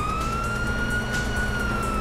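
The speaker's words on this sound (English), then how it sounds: "you hear that? Sirens!" A wailing police siren tone from Grand Theft Auto V rises and holds over a dense background rumble, continuous and fairly loud throughout the short clip.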